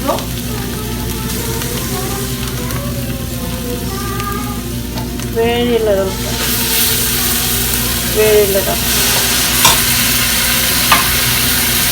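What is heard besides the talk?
dried Bombay duck (loitta shutki) frying and being stirred in a pan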